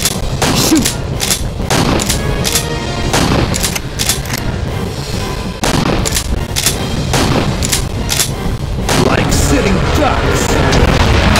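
Rapid gunfire from the arcade shooting game Primeval Hunt rings out loud and close, dense bursts of shots over a constant backdrop of game noise, with a game voice speaking at points.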